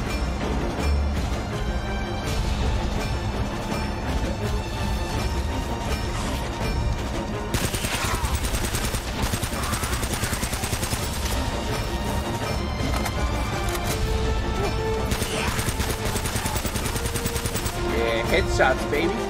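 Rapid gunshots and machine-gun bursts crack through Uncharted's combat, loud and sustained in a dense fusillade with crashes mixed in, and a voice chimes in only sparsely.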